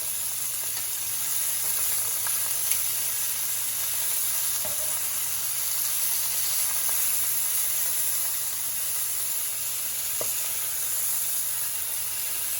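Beef negimaki steak rolls with carrots sizzling steadily in a hot pan after being flipped, a soft even hiss with faint occasional ticks, close and unbroken with no talking.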